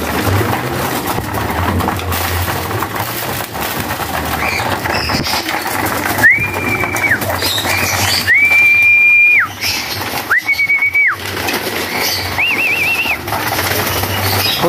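Pigeons are eating feed among a constant, busy background, with several clear, sustained, whistle-like tones sounding close by.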